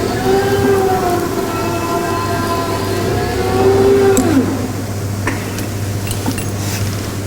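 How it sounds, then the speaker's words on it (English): Electric power-drive motor of an STS side-tipping drum rotator and stacker runs steadily with a low hum and rising whine tones, a whirring pitch sweeping and then cutting off midway, followed by a quieter steady drone. "then we can operate the power drive system"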